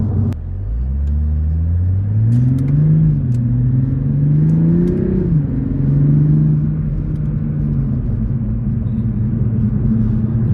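Toyota GR Supra 3.0 engine revving up and down as paddle shifters change gears, a loud, steady low rumble with rising and falling pitch close by, no talking.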